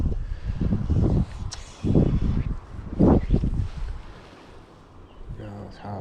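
Gusts of wind buffet the microphone beside a river during dry fly fishing, rough low rumbling bursts that swell and fade several times, close and loud, with faint voices near the end.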